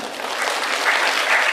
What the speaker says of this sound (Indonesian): demikian tepuk tangan untuk Kang Husen